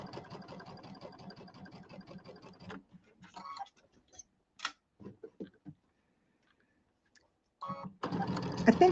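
Home sewing machine running in a steady rhythmic burst while piecing a quarter-inch seam on a quilted table topper, a fine mechanical stitching patter for a few seconds, then brief clicks and handling noises, and another short run of stitching at the end.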